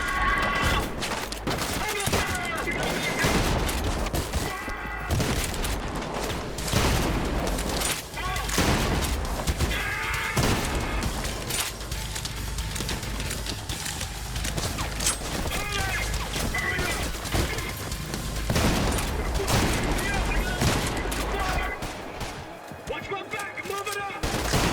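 Shotgun fire in Trepang2, loud blasts repeating rapidly and steadily throughout a busy combat scene, with someone talking intermittently over the shooting.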